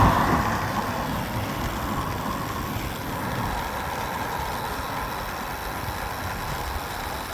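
A car passes a cyclist on the road, a broad steady whoosh of engine and tyre noise that starts loudest and holds as a continuous rumble over wind.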